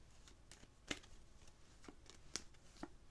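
Tarot cards being shuffled, a few soft, quick riffling and slapping bursts spaced irregularly over a quiet, close background, with no talking.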